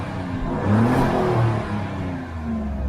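A 2021 Alfa Romeo Giulia QV engine pulling up after a gear shift, a close, smooth rising growl with steady rumble and mild whir, swelling briefly then easing.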